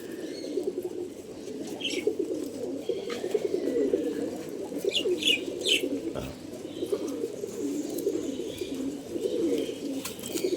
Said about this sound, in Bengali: এটা কিন্তু সুন্দর একটি কবুতর জাবরা কবুতর ক্রিম চোখের একটি কবুতর